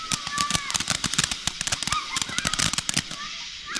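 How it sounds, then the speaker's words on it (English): Budget consumer fireworks on the Fourth of July crackle in a rapid, dense barrage of sharp pops and bangs with whistling tones, fairly close, as voices murmur underneath. "Fireworks look good."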